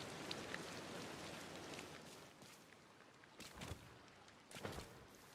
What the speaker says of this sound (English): The rain sound is a little loud for me.